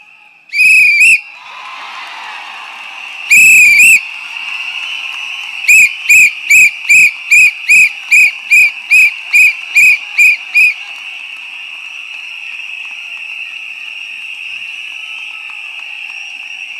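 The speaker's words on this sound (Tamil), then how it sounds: "நம்மளுடைய வெற்றி சின்னம் விசில்." Shrill whistle blasts at a political party rally: two long blows, then a rapid run of about ten short even toots, followed by a sustained whistle tone fading out, loud and close with no talk.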